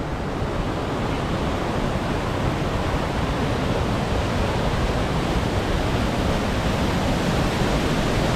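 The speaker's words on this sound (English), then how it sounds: "There's waterfalls everywhere." Wahclella Falls in the Columbia River Gorge running high, a dense, constant roar of falling water that fills the whole scene evenly and loudly, with no voices.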